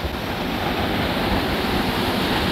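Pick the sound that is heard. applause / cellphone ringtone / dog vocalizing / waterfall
waterfall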